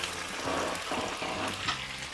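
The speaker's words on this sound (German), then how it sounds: "Und wenn die Zwiebeln schmarren, die Butter geschmolzen ist, geben wir die Zwiebeln da rein." Onions fry in melted butter on a Dutch oven lid, giving a steady close sizzle with faint crackles and a low hum beneath it, and no one speaking.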